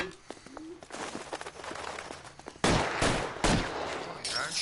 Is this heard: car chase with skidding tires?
no